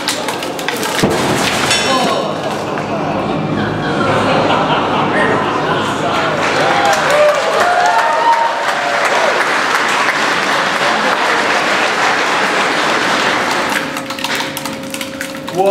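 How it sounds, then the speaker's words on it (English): Audience applause during a concrete cylinder crushing demonstration, sustained clapping from a crowd with some thuds and scattered voices mixed in, loud throughout and tapering near the end. "Applause."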